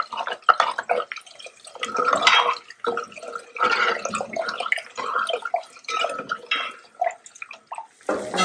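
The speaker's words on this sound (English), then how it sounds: "We're going to add the water," Water is poured into a pot of lentils for soup, a close, uneven splashing and gurgling stream that surges and eases over several seconds.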